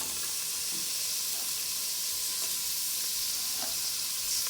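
Onions fry in a pot for fish stew, giving a steady, hissing sizzle with a rushing, water-like quality and faint scattered pops.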